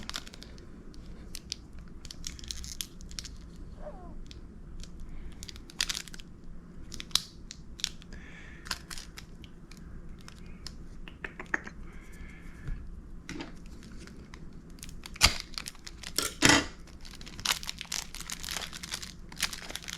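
Packaging for an AAP-01 airsoft green gas pistol part being opened up close: scattered crinkling and crackling of plastic, with sharp tearing snaps and a few louder crunches, fairly quiet, no talk.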